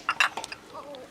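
Glasses clink together in a few quick, bright taps during a family National Day toast at the dinner table, with voices briefly calling out around them.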